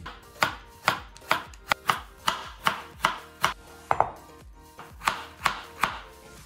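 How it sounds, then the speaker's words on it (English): A knife cuts Korean radish into thin matchstick strips on a cutting board, sounding as a steady series of about fifteen crisp, evenly spaced chops, close and clear with no voices. "Then you will spread it out like this and cut it once again to be as thin as"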